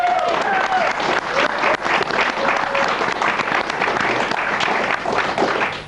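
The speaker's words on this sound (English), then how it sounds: "Give yourselves another round of applause" A TV show studio audience gives itself a round of applause, a full, sustained burst of clapping with cheering voices mixed in throughout.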